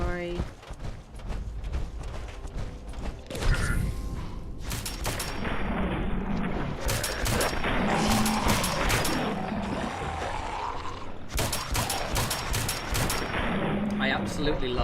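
Shotgun fire in the game Fallout 4: repeated loud blasts in irregular clusters over a steady bed of game sound, with a player talking throughout.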